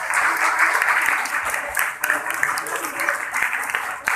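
An audience at a church gathering applauds in a sustained, dense wash of many hands, steady and fairly loud from start to finish with no pauses.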